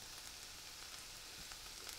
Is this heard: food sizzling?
yes